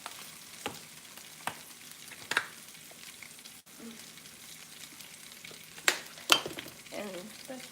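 Spinach frying in a pan, a soft continuous sizzle close by, punctuated by several sharp clicks and scrapes of a utensil against the pan.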